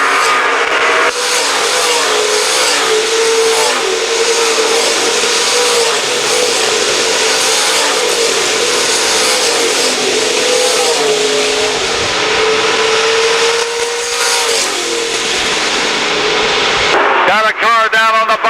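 Street stock race cars roar past on a dirt oval at the Hutchinson Grand Nationals, a loud sustained engine drone that rises and falls as cars pass, with a track announcer talking throughout.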